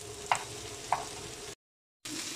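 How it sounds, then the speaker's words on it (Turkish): Meat and vegetables for a güveç stew sautéing in a pan, a low sizzle with two sharp utensil clicks against the pan, a brief silent gap, then the sizzle resumes. "Kalan bütün malzemelerimizi ekliyoruz. Ve onları da bir güzel kavuruyoruz."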